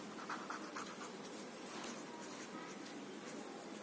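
Pen or chalk writing out an equation during a seventh-grade maths lesson, a quick run of scratchy strokes and taps, close and clear, with no voice over it.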